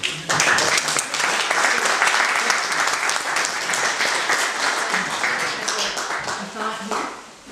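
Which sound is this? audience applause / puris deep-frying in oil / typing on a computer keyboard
audience applause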